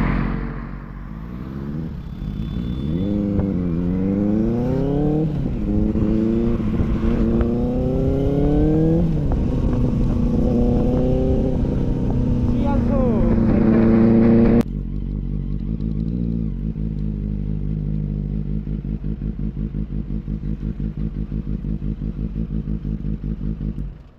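A modified Benelli 600i motorcycle with an aftermarket Scarpion exhaust is ridden in India: loud, close engine revving climbs through repeated gear shifts, then settles into a lower, steady rumble.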